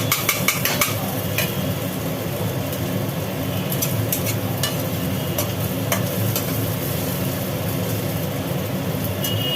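Onions frying in a pan, stirred steadily with a spatula: continuous close sizzle with scattered clinks and scrapes of utensil against metal, no voices.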